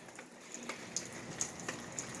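Steady rain patters down on a canopy, a soft continuous wash with a few brighter drips standing out now and then.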